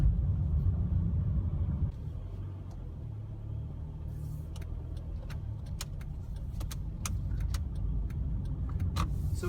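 A car drives on a road in normal everyday traffic, its low engine rumble steady and close throughout, with faint clicks and light rattles over it from around the middle onward.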